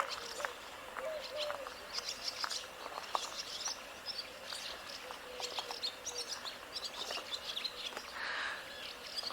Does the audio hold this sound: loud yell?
no